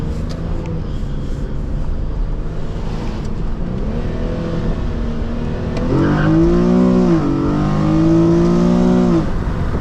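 An Infiniti G37 accelerates hard with a loud rising engine note, drops briefly at a gear change, then climbs again strongly in the next gear, heard from inside the car.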